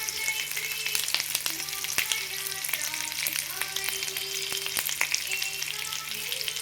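Bitter gourd frying in a pan for a Telugu onion-chilli curry, a steady soft sizzle with a few light stirring clinks, close and moderate in level, no voices.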